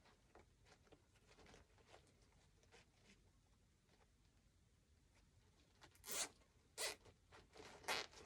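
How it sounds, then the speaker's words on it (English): A plastic zip tie is ratcheted tight while fastening Christmas streamers, giving three sharp, close zipping bursts near the end after faint handling rustles. "And I'm going to zip tie."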